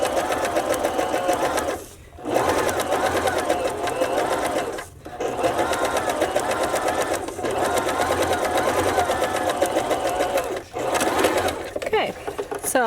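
A sewing machine stitches along the edge of a cut-and-sew foam bra cup, running loud and close in a continuous whir broken by a few brief pauses.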